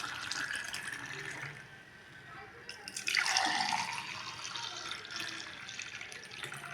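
Strained homemade vegetable juice pours into two drinking glasses as a close, continuous liquid splash and trickle that swells in the middle and then settles into a steady fill, with no speech.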